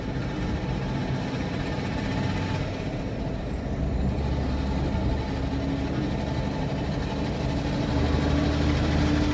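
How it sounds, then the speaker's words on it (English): A diesel truck rumbles past on the road, heard from inside a small electric car driving at low speed, with a steady loud engine drone and a faint hiss, no speech. "Those noisy, stinky diesel trucks."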